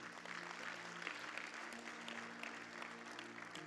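A church congregation claps together in steady, continuous applause filling the room, heard from some distance with a low hum beneath it.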